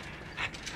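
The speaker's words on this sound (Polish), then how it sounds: "Słyszę psa, gdzieś tam, gdzieś tam." A dog in the Mad Max video game pants in a short, quiet burst of breathy huffs over low game ambience.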